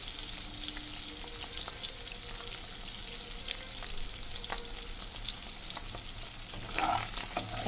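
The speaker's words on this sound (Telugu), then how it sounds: "చేప తొందరగా ఏగవే." Dry salted fish fries in a pan with steady, close sizzling and spitting throughout, a few sharper crackles and pops standing out, and a brief stronger burst of hissing near the end.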